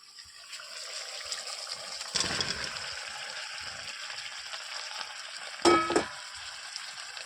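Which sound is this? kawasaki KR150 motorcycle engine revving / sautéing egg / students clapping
sautéing egg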